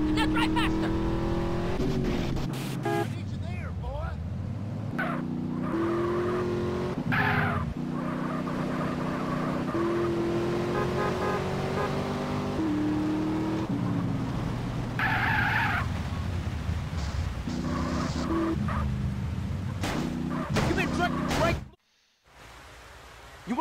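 Car engine revving and tyres skidding in GTA San Andreas, with continuous engine roar and shifting pitch under character dialogue and music, cutting out briefly near the end.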